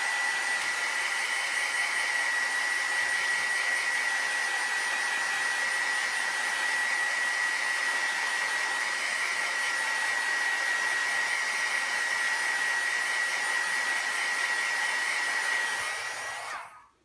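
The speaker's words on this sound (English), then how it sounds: "I'm going to dry these real quick" A hair dryer runs steadily to dry fresh acrylic paint prints, a loud continuous blowing hum with a steady whine that holds evenly before cutting off at the end.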